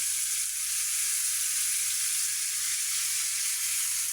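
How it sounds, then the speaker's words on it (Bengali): Dried red chillies frying in a pan, giving a steady, close, continuous hiss of sizzling oil that stays even throughout, with no talk. "এগুলো লাল লাল করে ভেজে নিতে হবে।"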